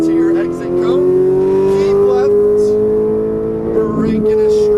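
A Ferrari 458 Italia's engine pulls hard out of a corner on a racetrack, a steady rising whine heard from inside the car, with a voice talking over it throughout.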